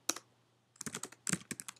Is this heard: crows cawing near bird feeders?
no